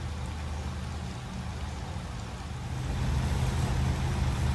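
Steady rain falls in sunshine in Missouri, an even broadband patter that swells slightly louder in the last seconds, with a low rumble underneath and no talk.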